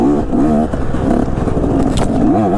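A KTM 150 two-stroke enduro motorcycle with Evo suspension revs hard on a tight, rooty trail, its raspy engine note rising and falling in quick continuous bursts, loud and close.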